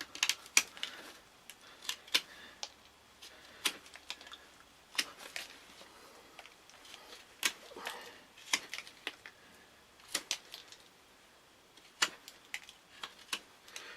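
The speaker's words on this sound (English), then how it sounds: "I'm just going to cut this end off flat as well" Knife blade cutting the end of a larger wooden stick flat for a split stick deadfall trap trigger, heard as a series of sharp, close clicking cuts and scrapes at an irregular rhythm, with no talking.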